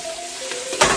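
Steady frying sizzle crackles in a pan as wild boar goulash cooks, with a louder burst near the end as onion and garlic are added.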